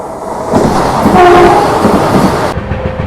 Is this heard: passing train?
yes